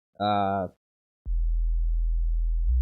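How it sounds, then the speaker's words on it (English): A low sub sine tone from a synthesizer oscillator sustains steadily and loudly after a brief harmonic tone, pure and unchanging. "It's a sine wave."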